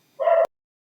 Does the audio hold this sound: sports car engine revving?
no